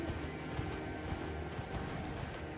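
Hoofbeats of a horse galloping at a steady, rapid rhythm in the Elden Ring video game, running continuously and fairly loud over a dense game background.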